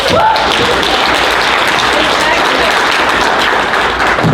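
Audience at an acting workshop giving a sustained round of applause, dense and loud clapping that holds steady from start to end.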